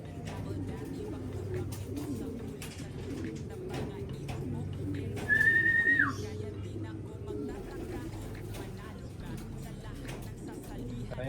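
Racing pigeons coo in soft, low, repeated murmurs under a steady background hum, with a person talking nearby and a brief higher chirp partway through.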